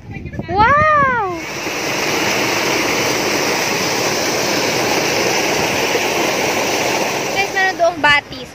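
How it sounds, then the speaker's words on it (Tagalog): A stream in Sir Sandford Fleming Park, Halifax, Nova Scotia, rushes in a steady, loud wash of flowing water after a brief shout, with voices faintly heard at the end. "meron doong batis. Batis kaya ang tawag doon?"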